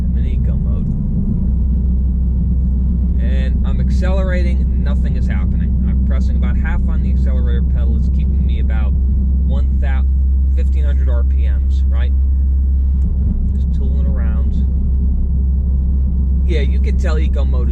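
A Toyota Camry XSE with a 3.5-liter V6, accelerating in Eco mode, gives a loud steady low cabin drone and rumble throughout, with someone talking over it.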